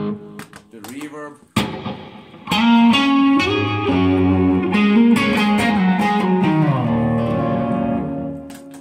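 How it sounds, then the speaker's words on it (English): Electric guitar played through a pedalboard with reverb switched in, sustained chords and melodic notes ringing with a washy tail after a few sparse plucked notes at the start. "the reverb,"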